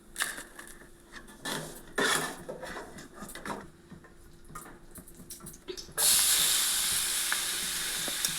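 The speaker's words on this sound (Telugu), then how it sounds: "పచ్చివాసన పోయే వరకు నూనెలో నేతిలో వేపుకోవాలి." Something fries in oil and ghee in a pan for a sweet gourd payasam, starting with scraping stir strokes over a low sizzle, then bursting into a loud, steady hiss that holds to the end.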